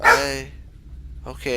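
A dog gives a single short bark up close, followed by a quiet pause and then a brief spoken word.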